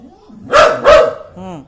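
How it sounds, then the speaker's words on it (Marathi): A dog named Bittu gives two loud, close barks in quick succession, followed by a shorter whining yelp. The sounds stand out clearly over a quiet background. "जोरात भुंक"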